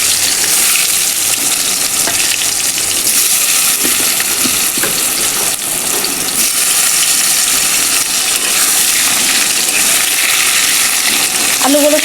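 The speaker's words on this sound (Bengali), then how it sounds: "এই তেলে আমি সেদ্ধ করে আলু রাখা সব ভেজে নেব" Boiled potatoes frying in hot oil in a pan, giving a loud, dense, continuous sizzle with occasional stirring scrapes and a clink near the end.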